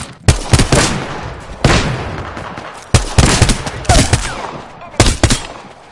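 Video game gunfire rings out in loud bursts of rapid shots, four clustered volleys separated by short pauses, each crack sharp and close with a ringing tail.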